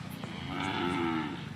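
A local Banaskantha cow gives a single drawn-out moo, close and clear, rising and holding for about a second before fading, with no voices over it.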